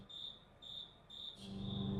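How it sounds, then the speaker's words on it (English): A lone cricket chirps in faint, evenly spaced bursts, about four pulses in two seconds, against an otherwise quiet background. "You could almost hear that cricket back then too."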